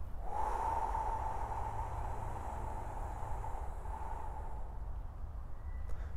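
A person exhales slowly and steadily after holding the breath during a breathing exercise, a soft continuous airy rush lasting several seconds, close and alone with no talking.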